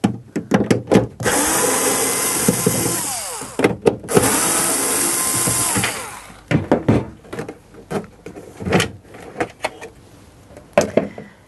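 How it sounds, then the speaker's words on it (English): Power drill backing out two screws from the motor cover of a Flymo lawnmower, heard as several short whirring bursts with two longer sustained runs, close and loud, with clicks and handling noises between. "remove the motor cover, which is held in place by these two screws"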